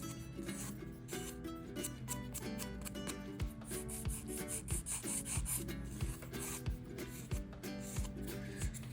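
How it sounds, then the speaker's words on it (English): Rapid, soft rasping strokes of a nail file across the top edge of a fingernail, repeating in a quick back-and-forth rhythm at close range. "File a little bit on the top"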